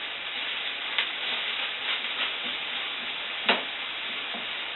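Food sizzles steadily in an uncovered pan, a continuous close hiss broken by a few brief clinks and scrapes from stirring, with no one speaking.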